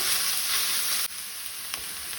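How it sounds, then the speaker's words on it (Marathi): Ginger garlic paste sizzling in a pan with onion over a medium flame for a tawa vegetable bhaji. A dense, steady hiss drops abruptly partway through, then continues more quietly. "आले लसणीची पेस्ट मातशी तळसून घेवपाक जाय।"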